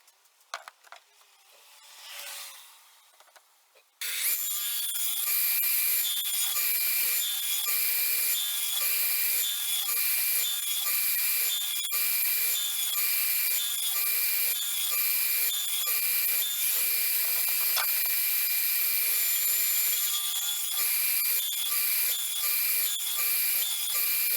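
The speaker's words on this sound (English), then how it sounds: "So I raised the blade on my radial arm saw to adjust for that new height" A radial arm saw trims the top of a wooden tenon for a mid-century modern style bed, running as a loud, steady high whine after a short quiet lead-in, with repeated cutting passes and no speech.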